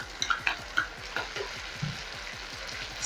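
Capsicum stirred into a frying sausage sauce for spaghetti: crackling sizzle up close, with a few sharp clinks and scrapes of a utensil against the pan early on, then steadier frying.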